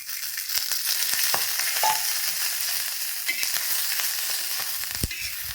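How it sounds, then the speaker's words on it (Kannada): Dried red chillies fry in a little oil in a home kitchen pan, giving a steady close sizzle with occasional sharp pops and crackles, no one talking. "ಈಗ ಸತ್ತ ಮೆಣಸಿನ್ಕಾಯಿ ಹುರಿತೀನಿ"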